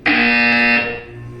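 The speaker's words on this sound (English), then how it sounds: "You will hear a buzzer." A single loud electronic buzzer from Portal 2 sounds for about three quarters of a second, a harsh flat tone that cuts off abruptly and leaves a faint ringing tail.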